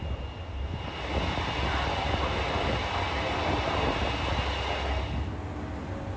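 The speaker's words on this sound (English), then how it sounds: "this is my train back to Takamatsu" Train to Takamatsu in Japan running along the rails, a steady broadband rumble and hiss heard from inside the car, loud and continuous throughout.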